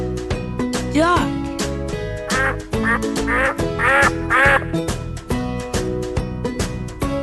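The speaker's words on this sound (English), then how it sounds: "Duck." Duck quacking in a run of loud, close calls spread across several seconds, set against a steady tonal musical bed.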